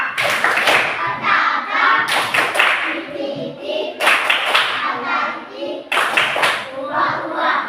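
Children in a classroom clap their hands in short, loud bursts that recur every couple of seconds, with young voices chattering between the rounds of claps.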